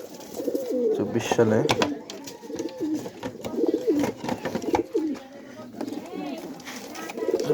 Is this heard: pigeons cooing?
yes